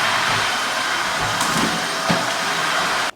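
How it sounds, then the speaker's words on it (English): A Tineco S1 wet dry vacuum cleaner runs with a constant loud, close whooshing roar that carries on steadily until it stops sharply at the end. "when you have a wet dry vacuum like the Tineco S1"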